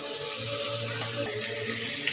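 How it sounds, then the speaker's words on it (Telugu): Water pours steadily into a pan of Sanduva fish curry in a home kitchen, a continuous soft splashing stream with no talking. "ఫిషెస్కి ఇప్పుడు దీంట్లో వాటర్ వేసుకోవాలండి."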